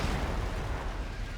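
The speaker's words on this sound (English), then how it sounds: "Counter battery, counter battery. We need like a good, solid couple of shots on them." Cannon artillery fire in the Napoleon Total War video game forms a dense, continuous rumble of overlapping booms and bursts. It sounds distant and fairly quiet throughout, with no voice over it.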